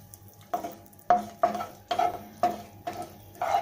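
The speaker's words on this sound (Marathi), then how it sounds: "आता याच तेलामध्ये पुन्हा मेथ्या आहेत ना त्या भाजून घ्यायच्या आहेत" Fenugreek seeds roasting in oil in a pan, the oil later used for a raw mango pickle. About seven evenly spaced stirring scrapes sound close over a quiet background sizzle.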